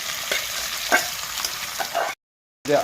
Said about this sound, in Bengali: এবার মশলা মাখানো মাংসটা দিয়ে দেওয়া হচ্ছে,